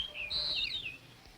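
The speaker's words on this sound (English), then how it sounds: "I'm listening for the bird." An animated cartoon bird calls in high, bright whistled chirps that rise and trail off over about a second, heard alone against a faint, quiet background.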